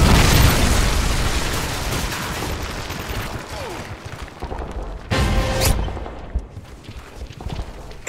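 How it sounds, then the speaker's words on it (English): A Predator missile explosion in a multiplayer shooter video game: an opening blast rumbles and decays, then a second sharp burst hits near the middle amid scattered game noise and distant gunfire. "Friendly Predator missile inbound."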